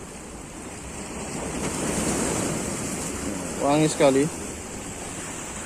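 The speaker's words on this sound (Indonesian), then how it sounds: "Jadi misalnya ombaknya nggak seperti ini ya" Ocean surf washes against the shore at a fishing spot, a broad continuous rush that swells and ebbs with wind buffeting the microphone, while someone speaks briefly near the end.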